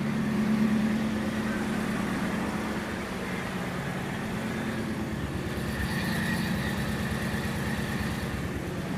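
A Ford Ranger fitted with RIP Fabrication small-block Ford headers idles steadily, giving a low, even engine burble close by that carries on alone without voices.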